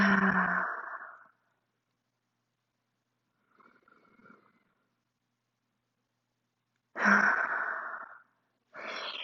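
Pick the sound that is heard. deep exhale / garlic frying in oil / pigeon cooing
deep exhale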